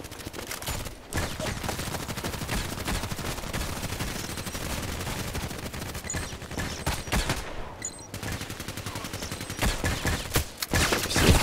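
Repeated gunfire from an unsilenced weapon in a sniper shooter game, dense volleys and bursts of shots running almost continuously with brief gaps, loud and close.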